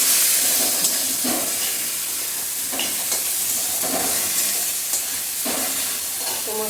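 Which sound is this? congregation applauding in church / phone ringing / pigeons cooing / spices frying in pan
spices frying in pan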